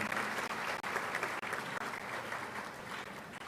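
Audience at a university congregation ceremony at KNUST applauding the Asantehene, a steady, dense wash of many hands clapping continuously, moderately distant and sustained throughout.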